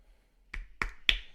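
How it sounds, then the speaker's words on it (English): Three sharp, isolated soft claps or snaps in a slow, even rhythm, close and quiet against near silence. "golf clap for that"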